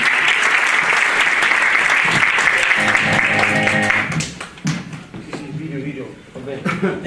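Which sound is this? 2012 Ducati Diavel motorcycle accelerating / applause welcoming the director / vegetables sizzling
applause welcoming the director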